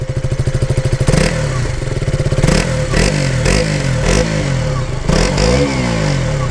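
A small motorcycle with stock exhaust, a KTM Duke 200 or Kawasaki KSR110, idles with a rapid putter, then revs repeatedly in sharp bursts, each blip rising and falling back, close and loud.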